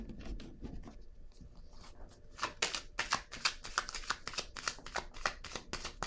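After a quiet start, tarot cards are shuffled close up in a rapid run of crisp slaps and riffles, then laid down on a surface.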